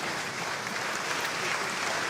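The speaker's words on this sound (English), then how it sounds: "applause" Sustained crowd applause fills a large hall at the 2023 Charlemagne Prize award ceremony as Volodymyr Zelenskyy arrives, a steady, dense wash of clapping from many hands with no break.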